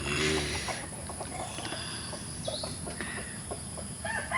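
Hens with chicks cluck in a farmyard, a quick burst of close, busy clucking at the start, then scattered softer clucks and peeps continuing alone.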